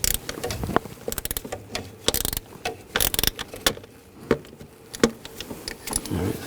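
A hand ratchet snugs down the throttle body bolts on a 2009-2017 Volkswagen Tiguan 2.0L four-cylinder, irregular bursts of sharp close clicks with short pauses between strokes and metallic tool handling.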